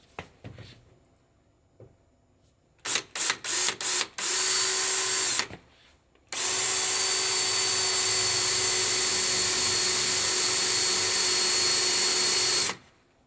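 A power drill fitted with a cobalt bit bores into a steel ATV hitch. It comes in several short bursts, then runs for one long, loud, steady stretch before it stops.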